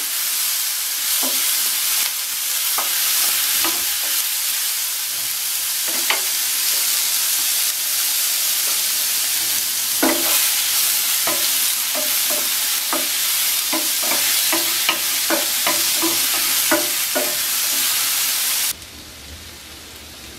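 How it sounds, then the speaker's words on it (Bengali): Two medium tomatoes fry with nuts and spices in a pan for fish masala tikka, making a loud continuous sizzle with frequent clinking stirs. The sound drops sharply near the end. "সব মিলিয়ে ভেজে নেব টমেটোগুলো সিদ্ধ হওয়া পর্যন্ত"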